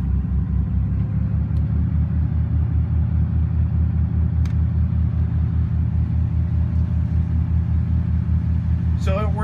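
Boat engines run in gear at around 1600 RPM, a loud, steady low rumble with a rhythmic throb that holds constant throughout, ending with a brief high squeak.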